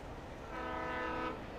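A train rolls past in the Alan Wake video game, its sustained horn swelling to a peak mid-clip and then easing off over a steady low rumble, with no voices.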